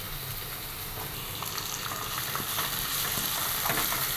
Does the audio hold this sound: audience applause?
no